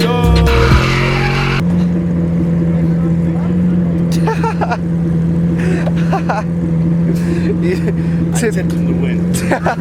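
A car drifts at Dream Racing Las Vegas, its engine droning steadily while tires squeal and scrub in loud recurring bursts, with a voice talking over the noise and a brief louder blast at the start.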